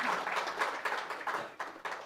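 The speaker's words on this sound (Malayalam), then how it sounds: "ഒരു കൈയടി കൊടുത്തേ" An audience at a stage event breaks into applause, a dense patter of many hands clapping in uneven bursts that rise and fall over the couple of seconds.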